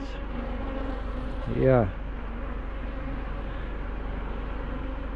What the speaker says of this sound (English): These bees are aggressive.